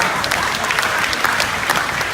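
An audience applauds steadily at a family memorial tribute, a dense, loud clapping that carries evenly through the whole moment, with a faint murmur of the crowd underneath.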